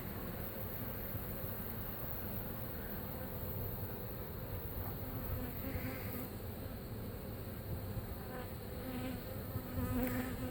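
Continuous droning buzz of a honeybee swarm, steady and close, with no talking, in Lakeland, Florida.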